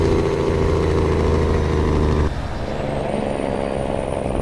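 Cummins N14 engine of a Western Star truck in American Truck Simulator, a deep loud idle drone that drops abruptly to a softer rumble about halfway through, with a faint rising whine afterward.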